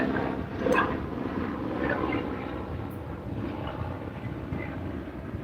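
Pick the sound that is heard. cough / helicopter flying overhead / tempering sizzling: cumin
helicopter flying overhead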